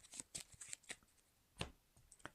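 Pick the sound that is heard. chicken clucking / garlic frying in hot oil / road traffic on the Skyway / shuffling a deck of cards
shuffling a deck of cards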